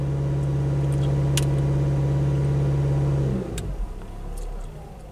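A car engine is held at a steady, elevated idle of about 2,000 RPM, a loud constant drone with a fixed low tone, then drops away to a rougher, quieter idle near the end.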